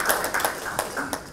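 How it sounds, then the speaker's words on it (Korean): A few scattered, fairly close hand claps from a small audience welcoming a farming-cooperative representative at a panel discussion on forest-product consumption; a short, thin burst rather than full applause. "큰 박수로 좀 맞이해 주시기 바랍니다"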